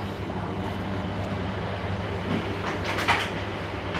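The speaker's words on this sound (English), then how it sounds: "This one is a rather old train." Inside an old, slow passenger train in the Netherlands, a steady low rumble and hum fills the carriage, with a few soft knocks and rattles near the end.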